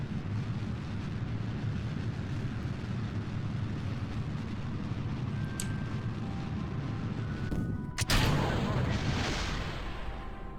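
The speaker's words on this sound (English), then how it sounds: "Wow, that exploded." A rocket stage bursts apart in a space program game. A steady low engine rumble runs throughout, then a sudden sharp explosive crack lands near the end, followed by a brief hissing wash.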